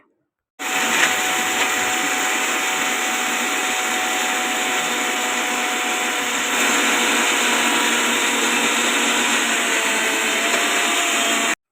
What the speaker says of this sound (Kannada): ನನಗಿನ್ನೂ ಸ್ವಲ್ಪ ಪೌಡ್ರ್ ಆಗಬೇಕಿತ್ತು ಅನ್ನಿಸ್ತು, ಅದಕ್ಕೋಸ್ಕರ ಮತ್ತೆ ಗ್ರೈಂಡ್ ಮಾಡಿಕೊಂಡೆ